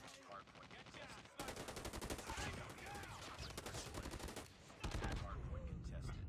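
Rapid bursts of automatic gunfire crackle through a Call of Duty Mobile ranked match, dense and loud for most of the span, with a brief lull near the start and a louder burst toward the end.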